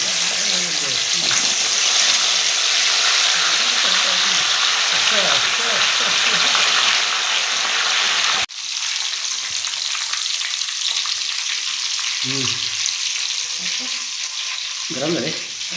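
Cooking oil sizzles loudly and steadily as food fries in a pan, a broad hiss running through the whole clip with a slight drop partway, while a few brief voices talk quietly underneath.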